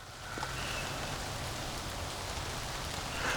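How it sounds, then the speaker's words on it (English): Steady rain falls in a soft, even hiss, continuous and moderately distant, with no voices. "I don't know if you can hear the rain, but it's raining"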